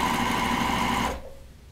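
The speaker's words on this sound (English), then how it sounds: "We're going to start to sew." A sewing machine stitching quilt fabric strips for a Court House Steps block, a fast, steady mechanical whir that runs for about a second before stopping abruptly into near quiet.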